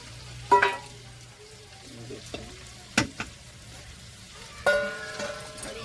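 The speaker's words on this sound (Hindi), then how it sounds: "धनिया पाउडर हल्दी पाउडर नमक साथ ही मसाला हम भूज रहे हैं" Chicken pieces with coriander powder, turmeric, salt and ground masala sizzle steadily in a pan in a home kitchen, with a few sharp scrapes and clanks of the stirring spoon standing out above the frying.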